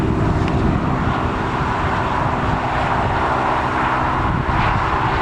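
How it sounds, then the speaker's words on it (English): Wide-body airliner, probably an Emirates jet, rumbling steadily at Newcastle Airport as a continuous broadband engine roar with a low hum, moderately loud and unbroken throughout, no voices. "Nice wide body aircraft."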